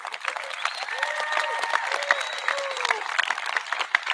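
A graduation crowd claps for faculty and staff in a steady wash of applause, with a few voices and tonal sounds running through it.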